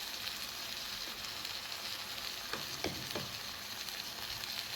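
Onions and green chillies sautéing in a pan for a river crab roast, a soft continuous sizzle with a few stirring scrapes near the middle, no talking.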